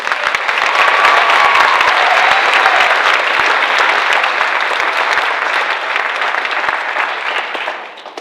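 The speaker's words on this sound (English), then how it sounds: "please give them another round of applause" A big crowd claps at a high school senior recognition night, a dense and loud wash of applause that holds steady for several seconds before trailing off at the end.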